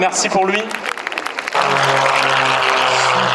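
An airshow crowd at La Ferté-Alais breaks into sustained applause right after a short announcement over a loudspeaker, the clapping dense and steady.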